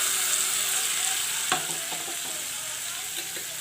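A pan sizzles steadily while a spoon scrapes and stirs through a thick lentil and drumstick-leaf mixture in tempering oil, giving a few sharp clinks against the metal.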